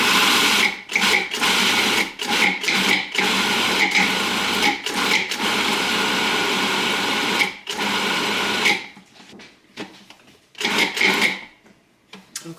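A food processor grinds salmon into a paste: a steady, loud motor whir with short choppy pulses, easing into brief bursts and stopping near the end.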